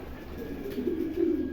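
Low, soft pigeon cooing rolls on steadily, a murmuring burble that swells slightly toward the end, close by with faint background hum.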